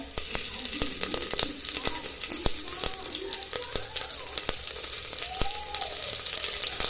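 Garlic and curry leaves frying in a pan, a close, steady sizzle broken by frequent sharp pops and crackles; faint background voice.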